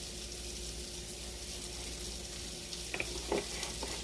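Swiss steak sears in a couple of tablespoons of oil in a pan, a continuous close sizzle and crackle filling the whole span, with a few brief clinks or scrapes toward the end; no speech.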